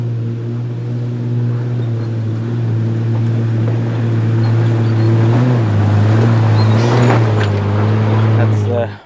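A 4.8 petrol 4WD climbs the steep, slippery, snowy Mount Terrible track, its engine holding a steady loud drone that rises in pitch with revs before cutting off at the end, with a voice speaking over it.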